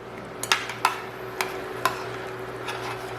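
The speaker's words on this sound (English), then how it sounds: "I'm mashing up our raspberries into the sauce." Raspberries being mashed into a barbecue sauce in a pot, with soft, irregular taps and knocks of the masher against the pot over a low, steady background hum.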